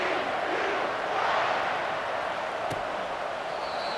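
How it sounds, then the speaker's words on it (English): A home stadium crowd roars in EA Sports College Football 25 during TCU Horned Frogs versus Boise State Broncos, a steady, dense wash of cheering with one brief sharp accent. "This home crowd starting the season off with offensive fireworks and looking to go 1-0. They are loving their squad."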